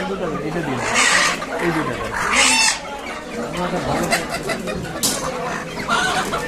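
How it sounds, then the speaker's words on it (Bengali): Chickens clucking at a busy poultry market in Bangladesh, short bursts of clucking and squawks repeating through the clip, close by, mixed with people talking and general market bustle. "আমরা এখন আয়ানের জন্য মুরগি কিনতে এসেছি।"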